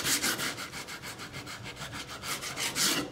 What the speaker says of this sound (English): I've got my 60 grit sandpaper and I am going to get rid of the super rough edges